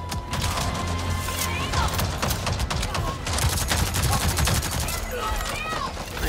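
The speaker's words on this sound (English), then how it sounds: "Yeah, assault rifle's fun." Assault rifle fire in the video game Avatar: Frontiers of Pandora, loud bursts of rapid shots in quick succession over a busy, noisy battle, with a voice talking briefly among the shots.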